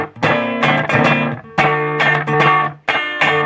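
Electric guitar played through a Madbean Aquaboy delay pedal set to a short slapback delay, giving three strummed chord phrases, each ringing out and then cut off, loud and clean with no talking.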